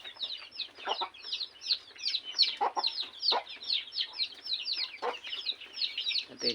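Black Australorp heritage chickens cluck continuously in a flock, overlapping calls forming a busy, steady chatter with no voices present.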